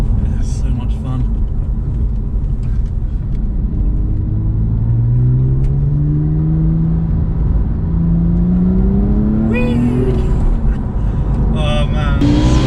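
A Jaguar XKR rolls along a bumpy, loose-gravel single-track road with a loud, steady engine rumble that rises and falls in pitch through gear changes, its drone continuous inside the cabin.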